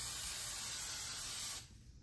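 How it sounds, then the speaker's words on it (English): Hairspray hissing from an aerosol can onto styled hair, one continuous close spray for about a second and a half that cuts off sharply. "While it's in this formation, we'll just spray it. Same hairspray."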